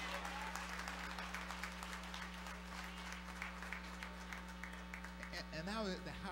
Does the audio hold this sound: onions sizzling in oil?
no